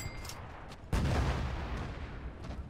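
Strafing-run gunfire from an attacking aircraft in the Gates of Hell war game, a sudden loud burst that sets off a sustained roar of fire and rumble, continuing steadily to the end with no talk.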